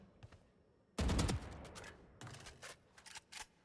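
Game gunfire aimed at training bots in a shooting practice: one loud burst of shots lands near the start, followed by a few shorter, quieter bursts spaced apart, with no talking.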